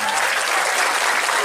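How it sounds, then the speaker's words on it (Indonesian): Audience applause at an evening Christian sermon gathering, a dense steady clapping from a crowd that holds evenly at full strength for the whole moment. "Nah, tepuk tangan pendeta Gilbert."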